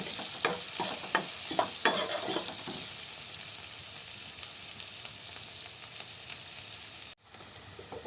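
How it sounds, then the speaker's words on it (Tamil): Garlic cloves frying in a pan in a village kitchen: a few scraping stir strokes over a close, steady hiss of sizzling oil, which settles into a constant frying sizzle with a brief dip near the end. "இது நல்லா பொன்னிறமாக ஆகிற வரைக்கும் கொஞ்சம் நல்லா வறுத்து எடுத்துக்கலாம்."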